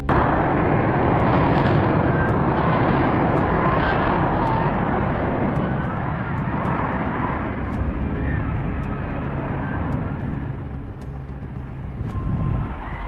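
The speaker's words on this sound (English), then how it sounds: "Video footage captured the F-35B hovering, then suddenly bouncing, losing balance, and nosing into the ground." A roaring F-35B fighter jet hovers during a landing attempt at Fort Worth Naval Air Station Joint Reserve Base, a loud, continuous broadband jet thrust with sharp clicks and wind, slowly easing off, with voices faintly underneath.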